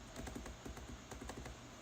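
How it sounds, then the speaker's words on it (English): Arrow keys on a computer keyboard pressed in a quick run of light, close clicks, about a dozen taps spaced unevenly over under two seconds with no talking. "I'm using the arrow key of my keyboard."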